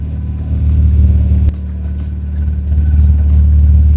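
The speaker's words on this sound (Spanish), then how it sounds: "Vamos a realizar una lanzada hasta 6000 revoluciones y veamos cómo se comporta la entrega de combustible." A car engine on a dynamometer loads up in a steady low rumble that builds toward a run to 6000 rpm, with a brief dip midway before climbing louder again, loud and close.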